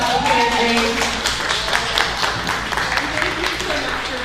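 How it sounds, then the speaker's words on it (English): An audience at a talk by a costume designer breaks into sustained, dense clapping, with scattered voices and cheers mixed into the continuous applause. "You guys give a round of applause"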